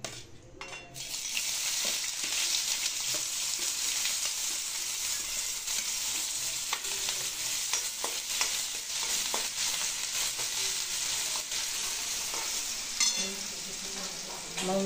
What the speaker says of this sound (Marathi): कढईमध्ये तेल घातले, तेल आता गरम झाले। आता कांदा घालून घेऊया।